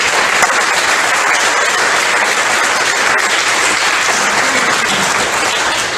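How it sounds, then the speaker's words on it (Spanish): A church congregation claps loudly and steadily, a dense wash of applause that stays strong and even throughout, with no talking over it. "Dale un aplauso entonces al Rey."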